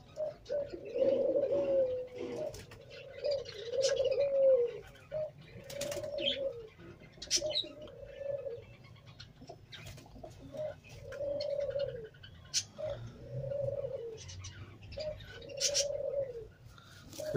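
Teddy pigeons in Pakistan coo in repeated low, throaty phrases, about a dozen rounded calls in a steady rhythm, close and clear, with faint clicks and rustles between them and no talking.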